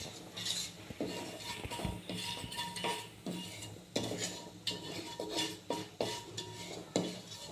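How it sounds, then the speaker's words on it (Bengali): Nigella and carom seeds fry in mustard oil while a metal spoon scrapes and clinks against the pan in repeated stirring strokes, close and fairly loud over a soft sizzle, with no voices. "এটাকে আমি আগে তেলে ভেজে নেব"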